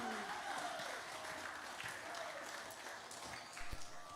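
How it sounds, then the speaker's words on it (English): Church audience of parents applauding a children's dance group at a White Sunday service, a faint, steady patter of clapping that carries on evenly throughout. "Another round of applause for group 2."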